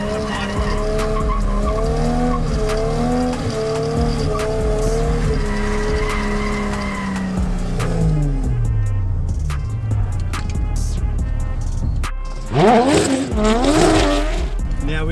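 A car drifts into a corner on a handbrake entry with a loud, sustained tire squeal and a rising, revving engine, then a fresh burst of squealing near the end; there is no talk.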